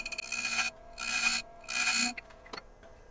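A square end carbide chisel cutting bocote wood spinning on a lathe at about 1,000 RPM, three loud bursts of rasping, scraping contact separated by short pauses, with a faint machine hum between and a small knock near the end.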